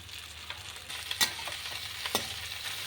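Mixed vegetables and chopped greens frying in a pan for fish-head chhyachra, with a steady low sizzle and a few sharp scraping stirs, close and fairly quiet, no voices.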